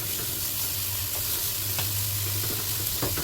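Fatty meat sizzles loudly and steadily in a hot pan with no oil added, a dense continuous crackle with occasional stirring clicks, close and alone.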